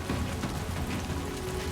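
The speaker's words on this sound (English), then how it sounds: "It's raining." Steady, dense rainfall hisses throughout with no pauses or voices, in the video game Death Stranding 2.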